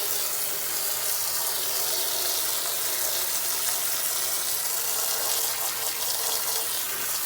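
Aquarium filter sponges, left uncleaned for over a year, are rinsed under a running tap, producing a loud, steady, close hiss of gushing water with faint splashing changes as the sponge is worked, no voices.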